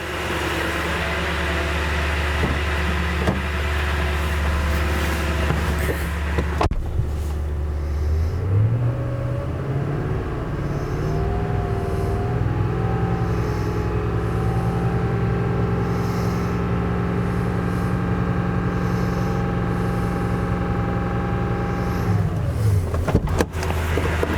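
A car engine idles, then revs up and holds a steady higher speed of about 2,500 RPM for a battery and charging test before dropping back to idle, loud and close throughout.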